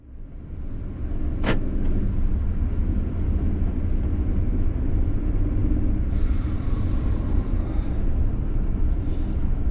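A van on the road with a steady, continuous rumble of engine and tyres throughout, nearby and unbroken.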